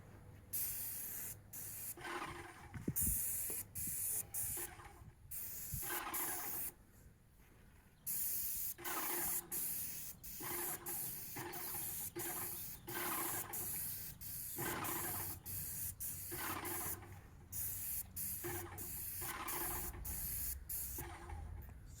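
A spray gun lays paint coats on cabinets in repeated hissing bursts, each lasting a second or two and separated by short silent pauses, close and steady with no talk.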